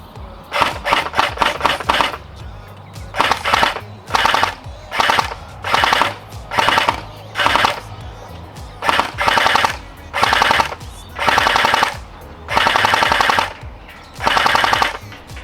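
A gel blaster fires gel balls at a target drum in short rapid bursts of shots, separated by pauses, loud and near.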